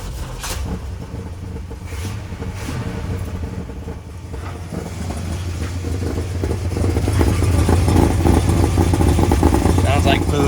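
A 1971 Buick LeSabre Custom's 455 V8 engine rumbles to life and settles into a loud, deep, lumpy idle, close up, with voices underneath.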